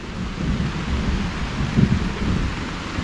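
Steady rain falls outdoors with a low thunder rumble underneath, a continuous wash of noise at a moderate level and no voices.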